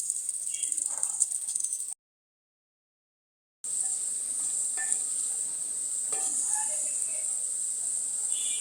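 Chopped ingredients fry in hot oil in a clay pot, a steady high sizzling hiss with faint stirring clinks, broken by a short stretch of silence before the sizzle resumes.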